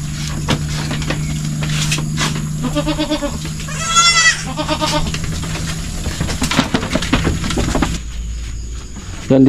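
Goats bleating on a farm pen, including a separated doe with her kid, several wavering bleats rising over steady background noise and occasional knocks, moderately close.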